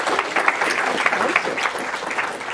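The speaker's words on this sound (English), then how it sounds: "Please give Samir a huge round of applause" An audience applauds to welcome a speaker to a talk, with dense, steady clapping from a crowd throughout, fairly loud and close.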